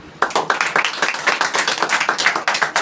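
A crowd of listeners at a business seminar claps hard in a quick, continuous patter of many hands, loud and close, after a brief quiet start.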